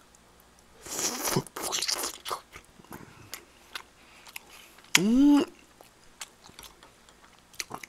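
Close, loud crunching bites of spicy braised ribs and tteokbokki in bursts, with chewing between them and a short hum from the eater.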